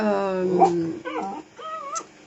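Dogs whimper and yip in a few short, high whining cries, moderately close, with quiet gaps between the calls.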